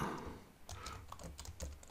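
Keys clatter in quick irregular bursts on a Bluetooth keyboard used with an iPad, close and fairly quiet, with no voices.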